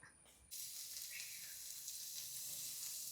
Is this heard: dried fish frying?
yes